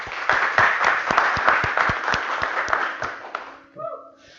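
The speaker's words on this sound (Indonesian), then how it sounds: "Tepuk tangannya untuk Mas Bram." Audience applause in an Indonesian talk-show setting, a dense, steady wash of many hands clapping that fades out near the end, with a brief voice cutting in as it dies down.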